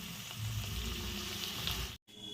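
Onion and capsicum frying lightly in a pan for chilli chicken give a steady, close sizzle that runs without break, then stops for a moment before it picks up again.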